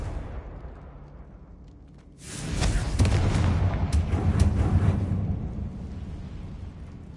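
A Confringo fire curse from Hogwarts Legacy erupts into a loud, rumbling explosion after about two seconds, with crackling bursts layered over a sustained boom that slowly fades.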